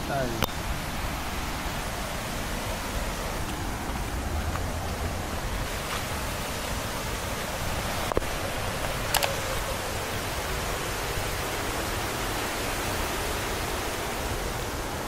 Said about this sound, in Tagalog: nandito kami ngayon sa waterfalls na tinatawag nilang Darbat Steep